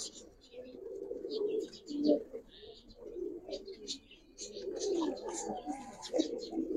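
Pigeons coo softly and repeatedly nearby in a pigeon loft, with scattered higher chirps; the birds continue throughout, partly mixed with murmured talk.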